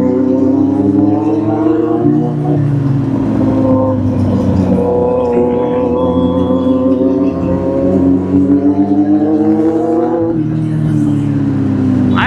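Two Kawasaki Z800 inline-four motorcycles ride together on a road, their engines a loud, continuous droning whine that climbs in pitch as the throttle opens and eases back, with a short dip near the end.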